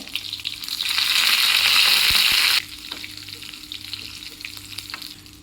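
Mustard seeds, green chilies and curry leaves frying in hot oil for carrot sambar, a loud close sizzle that surges for a couple of seconds and then settles into softer crackling.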